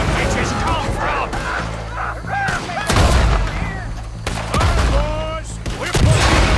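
Gunfire in Red Dead Redemption 2, a chaotic shootout of repeated loud shots and volleys cracking out at uneven intervals, with shouted voices and battle noise mixed throughout.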